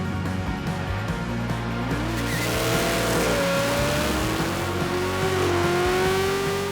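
An American muscle car engine revs hard, a loud continuous roar with rising and falling pitch sweeps as it accelerates and shifts, with some tyre noise, sustained for several seconds without talk.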